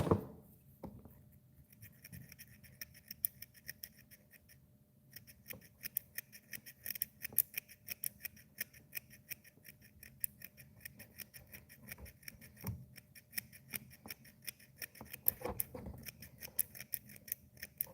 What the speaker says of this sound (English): We're gonna need to trim this out.